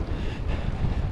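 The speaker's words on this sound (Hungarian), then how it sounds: "Szél is van hozzá." Steady wind gusting against the microphone outdoors on a road trip through Greece, a loud continuous low rumble with no voices.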